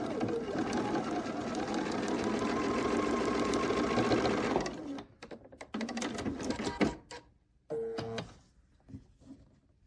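A sewing machine stitches quilt fabric pieces together in a fast, even whirring run of several seconds, then stops and restarts in short bursts of stitching.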